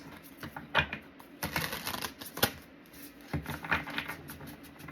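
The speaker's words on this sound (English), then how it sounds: "Sorry, this deck is harder to shuffle." A deck of playing cards being shuffled in repeated riffling bursts, close and moderately loud, with brief pauses between passes and no talking.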